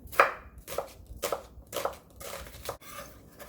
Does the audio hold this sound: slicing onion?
yes